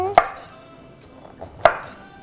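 Two sharp knife chops on a cutting board while slicing wiped mushrooms, with the stems already trimmed, into wide pieces. The chops are spaced about one and a half seconds apart, close and crisp, with quiet handling sounds between them.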